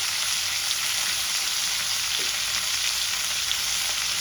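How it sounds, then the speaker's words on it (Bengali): Potatoes fry in a pan of oil for an egg curry, an even, close, unbroken sizzle that holds steady throughout. "আলুগুলোকে আমি লাল লাল করে ভেজে তুলে নেব।"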